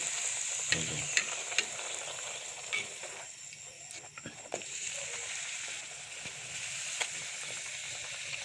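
Parathas fry in very hot oil, giving a steady bubbling sizzle with scattered crackles and a few sharp pops, fairly close but moderate in level.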